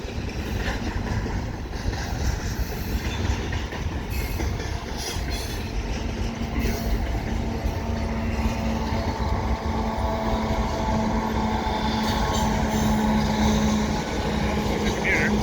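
A commuter train runs alongside a CP stack freight train, a steady rolling rumble with a faint sustained hum, heard from a distance for the whole stretch, with voices talking at times.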